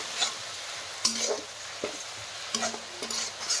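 Masala of browned onion and ginger-garlic paste sizzles in a pan while a spoon stirs it, with close scraping strokes and clinks against the pot over a steady frying hiss.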